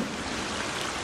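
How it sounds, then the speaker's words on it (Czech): Continuous rushing of flowing water, a steady broadband wash with no voices, heard briefly and at moderate level. "Slyším vodu."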